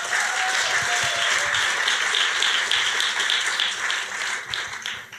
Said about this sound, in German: Und Applaus gerne nochmal für Ebbo.